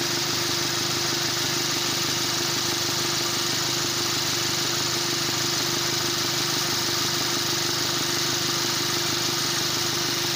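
A Ford car's air conditioning compressor runs steadily with the engine idling, a continuous close mechanical hum and drone with no talk.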